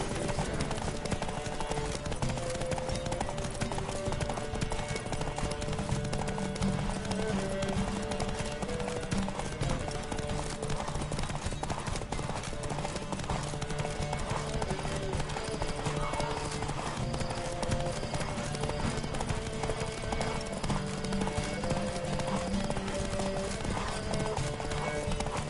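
Horse galloping at speed in a PS4 riding game, a steady driving clip-clop of hooves with an occasional whinny over continuous background music for the whole stretch.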